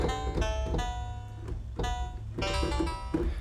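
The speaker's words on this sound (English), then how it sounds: "Almost sounds like a cheap harpsichord or something." A Kontakt multi-sample instrument played in tile mode, drawing from the bottom of its sample range, gives a bright, plucky, harpsichord-like tone. It plays a steady run of struck notes alone, with no talking.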